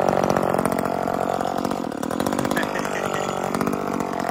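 An Echo 2511 chainsaw engine idles close by, a steady buzzing, rattling drone that runs throughout at even volume.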